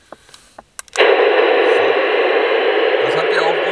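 A CB radio switches off its automatic squelch: a few clicks and button taps come first, then loud, steady hiss bursts in and continues unbroken to the end, close and constant.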